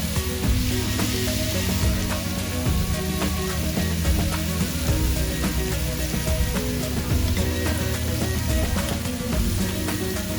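Pork belly on a grill in a Korean restaurant gives off a steady, loud sizzle and frying hiss throughout, over a busy background and with no nearby speech.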